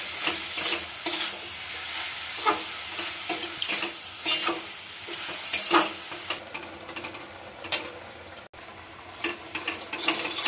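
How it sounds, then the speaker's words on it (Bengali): Coconut and sugar for sandesh being stirred in a pan, with a run of close, rhythmic scraping strokes over a light sizzle that quietens partway through, and no one speaking. "এইভাবে নাড়তে হবে যতক্ষণ না আঠালো ভাবটা আসে।"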